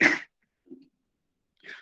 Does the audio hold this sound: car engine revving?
no